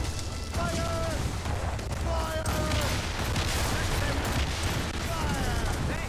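Gunfire in the video game Assassin's Creed Rogue rattles in dense, continuous volleys under loud battle noise, with faint shouting voices mixed through the clamor.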